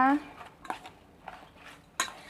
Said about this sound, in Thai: แล้วก็จะทำการคนเลยนะคะ